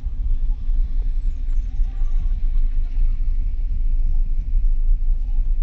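A private car being driven on the road during a driving lesson gives a steady, close, low engine and road rumble that continues without a break.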